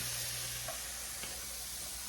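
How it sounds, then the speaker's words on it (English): Hamburger patties fry in a warm skillet on a stove with a steady, quiet sizzle and a low hiss, heard alone with no talk. "So that's frying."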